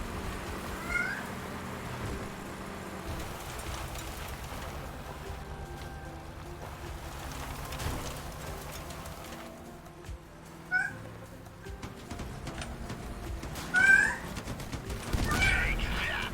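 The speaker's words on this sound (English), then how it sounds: "Meow, I hear you over there, cat." Cat meows in a video game, a few short, faint calls scattered over quiet in-game background noises and occasional bursts.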